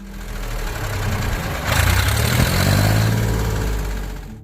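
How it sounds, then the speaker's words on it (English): A Massey Ferguson 135 diesel tractor engine idles nearby with a steady low, knocking rumble that grows slightly louder partway through and holds. "Number 4, the Massey Ferguson 135 Diesel."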